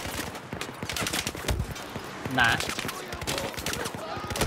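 Gunfire and explosive bursts from a weapon in the video game Battlefield 4, sharp shots and booms cluttering the scene alongside brief speech.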